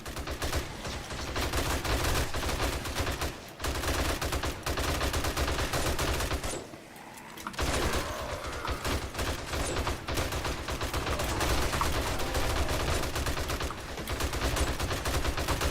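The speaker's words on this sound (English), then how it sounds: "Usually I just shoot him in the body so I'm not wasting bullets." Sustained gunfire in 7 Days to Die, fired at a zombie at a chicken drive-thru killbox: loud, close, continuous rapid shots like a fusillade, broken by a short pause midway before the shooting resumes, with no talk.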